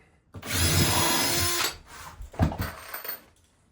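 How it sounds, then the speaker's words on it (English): A power drill whirs steadily as it pre-drills wood for large screws on a sauna bench bracket, running for over a second, then stops, followed by brief scraping and handling noises. "I am gonna pre-drill this, as these are bigger screws."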